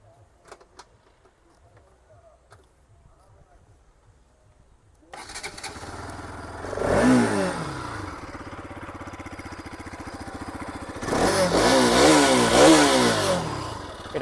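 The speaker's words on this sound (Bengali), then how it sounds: "এটা হচ্ছে আপনার এক্সস্ট সাউন্ড।" A Bajaj Pulsar RS200 motorcycle starts and idles in neutral, then its exhaust rises in two loud revs with a crackling fall-off between them. The sound is close and carries no talk.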